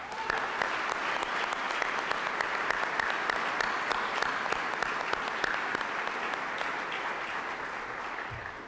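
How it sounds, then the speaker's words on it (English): A gala crowd at the 911 Honors Dinner in DC gives a sustained round of applause for the NENA and E9-1-1 Institute staff, many hands clapping evenly throughout and tapering slightly toward the end. "So I'd like to give them a round of applause for their work."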